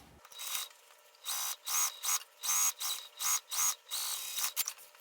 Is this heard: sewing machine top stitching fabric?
yes